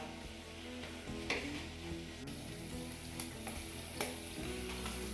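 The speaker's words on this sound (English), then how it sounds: "The sausages, you want to cook them slowly." Sausages cook slowly in a pan for bangers and mash, giving a steady close sizzle with a few sharp crackles and pops. Faint tonal background sound runs underneath.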